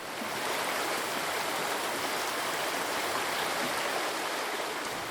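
Steady broadband rush of river water where the Río de Oro enters the town of Piedecuesta, continuous and fairly loud throughout with no voices.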